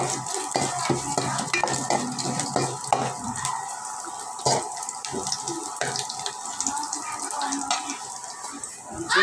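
Rice frying with onion, dried chillies and bay leaf in a pan, a continuous close sizzle broken by repeated stirring scrapes and clatter, with no talk over it.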